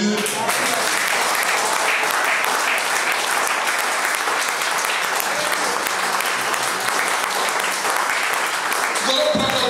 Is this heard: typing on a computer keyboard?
no